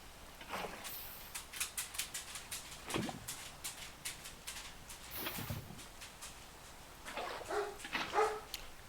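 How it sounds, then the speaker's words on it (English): A pet dog named Dickens barks repeatedly indoors, sharp yaps in uneven bursts with occasional whimpers, fairly close and moderately loud, with no talking. "Stop barking at every random noise you hear outside."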